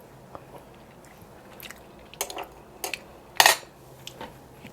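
Biting and chewing a gyoza topped with Mike's hot oil, heard as a few close, soft crunchy bites and moist chews, with a louder crisp bite near the end against a quiet room.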